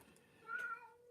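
A cat gives a single soft meow at close range, a short rising-and-falling call standing out briefly over a quiet indoor background.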